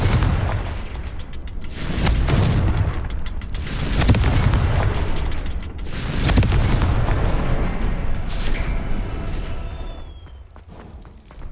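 Confringo, an explosive spell in the video game Hogwarts Legacy, sets off a string of heavy booming blasts, three or four big detonations spaced a couple of seconds apart amid rumbling combat noise that fades near the end.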